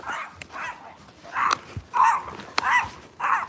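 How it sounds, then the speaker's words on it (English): A small dog on a walk gives a string of sharp close barks mixed with whimpers and yips, loud and in uneven bursts, with no talking. "The little dog will bite Toby."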